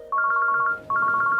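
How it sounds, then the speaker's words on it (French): A telephone rings in two bursts of rapid electronic trilling warbles separated by a short pause, loud, clear and alone with no talk. "Le téléphone sonne."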